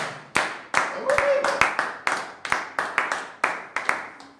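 Congregation at a church service clapping to acclaim the Lord, loud sharp handclaps in a steady rhythmic beat of roughly three per second, with a brief voice briefly heard among them.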